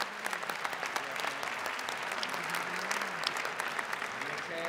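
Audience applause at the Miss Academia 2013 beauty pageant gala, dense sustained clapping from a large crowd, steady and fairly loud, with faint voices mixed underneath.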